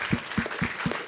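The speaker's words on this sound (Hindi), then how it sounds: "इस टीम के लिए एक बार जोरदार तालियां हो जाएं." Audience applause for a team at a streaming-series launch event, heard as brief, rhythmic, fairly close claps in a short burst with no talking.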